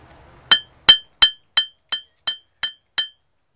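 Eight sharp, ringing hammer strikes fall on a wrought iron arrowhead at an anvil in an even rhythm, each blow clear and close with a brief metallic ring that decays quickly.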